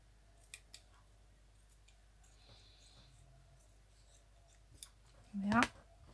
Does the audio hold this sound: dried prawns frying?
no